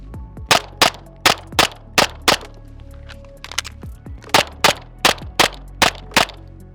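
Sharp, loud pistol shots from a Staccato Duo P on a 10-yard drill, fired in quick pairs: six evenly spaced shots, a short pause with faint handling noise for a reload, then six more in the same pairs.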